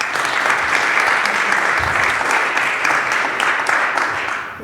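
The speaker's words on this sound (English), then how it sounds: "And that deserves a round of applause." Applause from a conference audience fills the room, steady and dense clapping for several seconds at moderate loudness, tapering slightly at the end.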